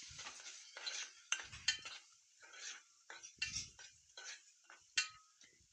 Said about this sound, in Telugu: పావు స్పూన్ పసుపు ఇవన్నీ కలిపి మొత్తం బాగా కలుపుకోవాలి